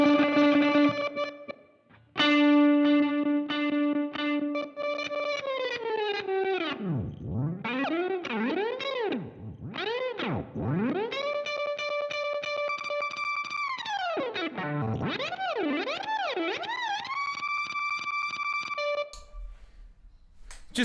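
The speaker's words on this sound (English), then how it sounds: "essentially what it's doing is it's like an octave pitch delay." A guitar through an octave pitch delay pedal sustains notes that swoop and dive in pitch, warbling down and up repeatedly over a long stretch, loud and unaccompanied.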